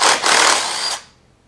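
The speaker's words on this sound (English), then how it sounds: "There'll be two 10 millimeter bolts for your intake. Loosen those." A tool loosens the 10 mm intake bolts on a GY6 scooter engine, making a close, loud whirring burst of about a second that cuts off abruptly.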